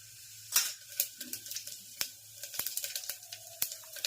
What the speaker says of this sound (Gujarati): તેલ, રાઈની તતડાટી ગળી રહી છે.